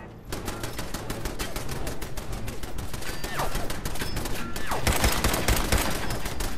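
Crude homemade pipe guns fire in the post-apocalyptic game Fallout 4. Dense, rapid, crackling shots overlap almost without pause for several seconds and grow louder toward the end, with only a faint trace of voice underneath.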